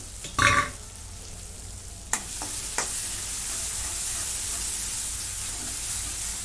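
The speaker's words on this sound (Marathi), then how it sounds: "आता याच्यावरती झाकण झाकते आणि एक 5 मिनिटं बारीक गॅसवरती शिजवून घेते" Masala for mixed vegetable bhaji fries in a pan on low gas. A brief burst of sizzling and a couple of metallic lid clanks give way to a steady, soft frying hiss with no speech.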